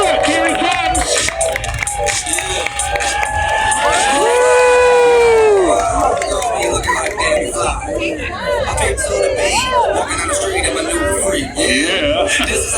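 A crowd at a country show sheep display in Lambeth cheers, shouts and chatters loudly and continuously, with children's excited cries and whistle-like squeals rising above the din throughout.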